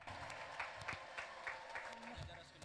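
Congregation at a church deliverance service clapping and ululating together, a dense continuous wash of hand claps with bursts of high trilling cries, while a voice speaks over the noise.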